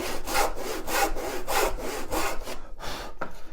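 Hand saw cutting wood in steady back-and-forth strokes, a rhythmic rasping about two strokes per second, close and clear with no talking.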